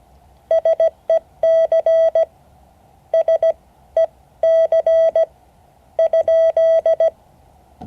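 Morse code tones sent over amateur radio, a steady high beep keyed in short dots and longer dashes, grouped into several bursts of characters with gaps between, clear and alone over faint background hiss.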